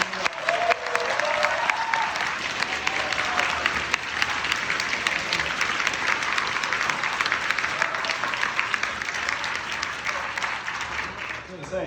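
Audience at a Forward Party Texas convention launch applauding steadily throughout, a broad continuous wash of clapping with voices mixed in underneath.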